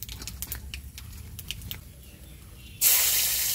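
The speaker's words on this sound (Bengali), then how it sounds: "এবার দিয়ে দেব কালো জিরে ফোড়ন" Nigella seeds (kalo jeere) hit hot oil for a tempering and break into a sudden, loud, steady sizzle near the end, after a stretch of faint kitchen clicks and rustling.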